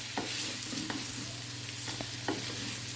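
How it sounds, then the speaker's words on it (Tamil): Mutton being stirred into spice masala in a pan, continuous sizzling with a few soft scrapes of a spoon, close and alone. "இந்த மசாலாவோடைய மட்டன் வந்து நல்லா மிக்ஸ் பண்ணி கோட் ஆகிற அளவுக்கு மிக்ஸ் பண்ணிக்குவோம்"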